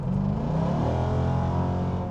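A Dodge Durango Hellcat's supercharged V8 revs steadily under light throttle, a loud, close engine roar with a rich low harmonic drone that swells slightly but holds throughout, with no voices.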